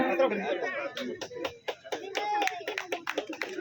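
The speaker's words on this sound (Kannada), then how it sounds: "ದಯವಿಟ್ಟು ಚಪ್ಪಾಳೆ ಬರಲಿ" An audience claps at a felicitation ceremony, a brisk patter of many hands that runs steadily throughout. Chatter and a voice can be heard beneath the applause.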